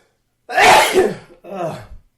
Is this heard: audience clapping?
no